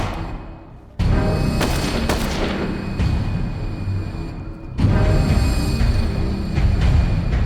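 Gunfire from a golden gun in the Call of Cthulhu video game: sharp, loud reports with heavy low-end booms, one striking near the start and another several seconds later, each followed by a rumbling tail.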